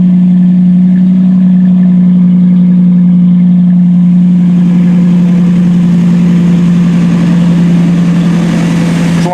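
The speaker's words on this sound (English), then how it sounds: "I never get tired of the sound of it. I just like the perfect sounding exhaust." A 2008 Hemi R/T idles through its exhaust, close and loud, with a deep, steady burbling drone. The note stays even throughout, with a slight roughening toward the end.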